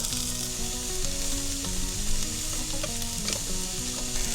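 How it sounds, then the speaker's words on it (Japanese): Vegetables stir-frying in a pan after the fish has been turned, a steady close sizzle and crackle running throughout with no talking. "魚を一回ひっくり返したあたりで野菜を炒める"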